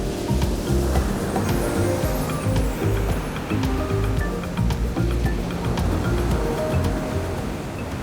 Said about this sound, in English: This is the kind of beach where your feet sink slowly into the sand while the waves rush in.